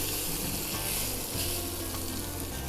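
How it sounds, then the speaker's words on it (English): Skin-on chicken thigh cutlets about 10 mm thick fry in a pan with a loud, continuous close-up sizzle and crackle, with no talk over it. "what we're going to do is just cook it, fry it off."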